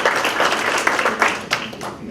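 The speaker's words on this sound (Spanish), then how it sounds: "desde ya de acá le mandamos un fuerte aplauso para que se mejore y esté pronto con nosotros" Attendees at a swearing-in ceremony clap for a professor, a short burst of scattered, uneven applause from a small group, close and brief.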